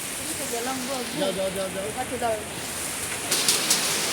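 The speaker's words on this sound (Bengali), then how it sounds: "এই দেখেন আবার বৃষ্টি শুরু হয়ে গেছে। এই দেখেন শিল।" Heavy rain with hail pours down steadily in Bagatipara, Natore, a dense broadband hiss throughout, with a voice briefly audible beneath it early on.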